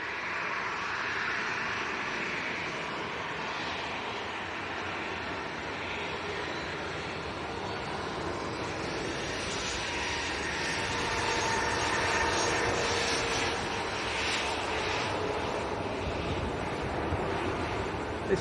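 A Ryanair Boeing 737-800 departs Leeds Bradford for Dublin, its engines a faint, distant, steady rush like wind that swells slightly toward the end, with no talking.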